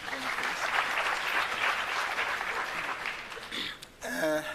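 A crowd applauds a speaker at the launch of 4IR centres of excellence, steady dense clapping that holds for several seconds before breaking off, then a voice begins speaking.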